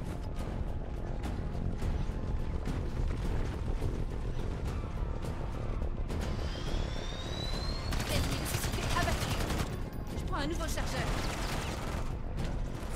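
Sustained automatic turret fire in Call of Duty: Modern Warfare 3 zombies mode, a dense continuous rattle of shots with mechanical hum underneath and a voice talking over it.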